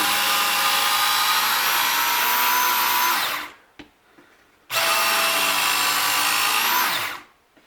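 A Smith's electric belt knife sharpener grinds a knife blade in two long passes, each a loud, steady abrasive whine lasting about three seconds, separated by a short pause with a light clunk.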